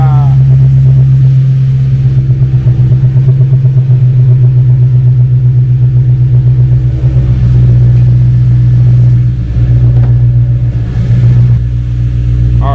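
An old BMW E9X M3 engine idles loudly and steadily up close, a deep droning rumble with slight wavering in pitch and no talking over it.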